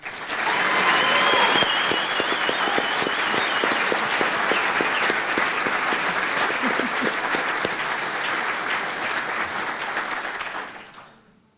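An audience at an Air Force Special Operations Command award ceremony breaks into loud, sustained applause lasting about ten seconds. Scattered voices and a faint whistle rise over the clapping before it fades away.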